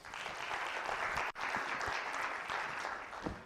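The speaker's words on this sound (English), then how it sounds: "round of applause" A crowd applauds steadily at an awards ceremony following an Oxford-style debate and storytelling finals, dense clapping filling the space, with a brief sharp dip partway through before it resumes at full strength.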